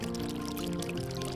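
Water trickling and leaking steadily from a cracked clay pot, a soft continuous pouring wash heard close and alone, with no speech.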